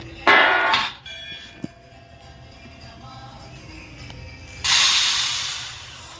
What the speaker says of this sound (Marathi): पाणी उकळलं.